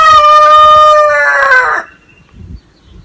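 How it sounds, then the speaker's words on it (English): A single loud rooster crow, close and clear, lasting under two seconds before trailing into quiet. "Damn rooster."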